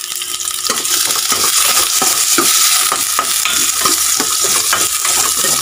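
Food sautéing in a hot pan with steady loud sizzling throughout and repeated scraping stirs of a utensil against the pan, no voices.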